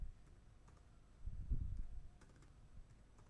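Typing on a computer keyboard while building a DAX formula, a quiet run of soft key clicks that swells briefly in the middle, close and alone with no talk.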